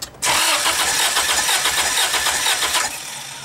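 A Z6 Turbo engine, a car that has had starting trouble, cranks and fires up during a fire test, roaring loudly for a few seconds before dropping back to a lower idle; no one speaks.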